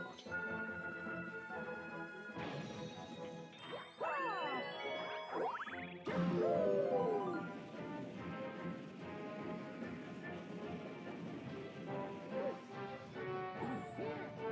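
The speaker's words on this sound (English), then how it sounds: "Just let that one explode." Bomb explosion in the video game Super Mario Galaxy: a sudden bright crash of tinkling, sparkling effects rises over continuous game music, with smaller chimes and dings scattered through the rest of the passage.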